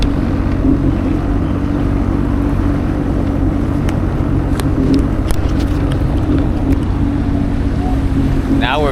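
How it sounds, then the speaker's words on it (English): A jet ski engine drones steadily on open water, a continuous loud hum with wind and spray noise throughout, on a run from Long Beach toward Avalon. "Now we're back on the water. It's a pretty good feeling. Back on a jet ski."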